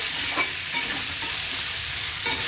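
Figs and prawns sizzle in a pan with salt and turmeric as a curry is sautéed, a steady fry with the soft scrapes of a spatula stirring throughout, close and moderately loud.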